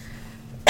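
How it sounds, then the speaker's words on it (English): A single sharp cough from a sick person bursts out close and loud at the very end, after a short quiet stretch. "Sorry, I'm coughing."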